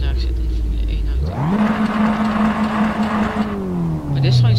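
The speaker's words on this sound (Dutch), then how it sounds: "zo daar zit in de Formule 1 auto" A Formula 1 car in the Assetto Corsa racing game starts from a low idle rumble, then revs up into a steady, loud, high engine whine that holds before easing down, close and alone.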